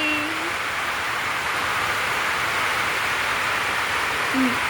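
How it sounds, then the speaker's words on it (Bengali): Heavy rain pours steadily in a dense, continuous hiss, loud and even throughout with no voices. "দেখো জোর করে বৃষ্টি পড়ছে"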